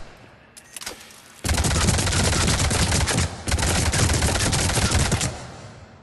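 Avenger assault rifle in Mass Effect 3 firing at point-blank range through the sights, loud sustained automatic bursts with a short pause between two long strings of rapid shots.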